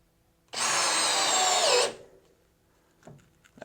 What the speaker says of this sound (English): Drop in the first pocket screw and we'll see how it does.